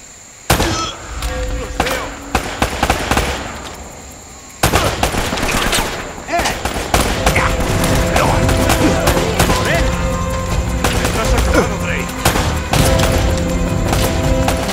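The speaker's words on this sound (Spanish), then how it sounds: "A ver, me están disparando" Loud automatic gunfire in a shooter video game, rapid crackling bursts that swell into a dense, continuous volley of shots fired at the player.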